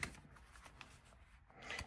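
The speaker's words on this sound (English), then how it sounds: "Okay, let's see how it shuffles." A tarot card deck being shuffled, soft quick riffling flutters and light card taps, close and quiet, with no voices.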